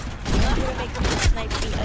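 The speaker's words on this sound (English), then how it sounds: "That Widowmaker sniped me again." A sniper rifle shot from Widowmaker in the video game Overwatch, a sharp crack landing late in a dense wash of in-game gunfire and effects, with a voice faintly audible in the mix.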